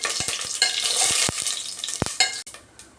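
Cinnamon, cardamom, cloves and fennel seeds stirred in hot oil for mutton kurma, crackling and hissing under a few sharp spoon taps against the pan, close and lively, no voices.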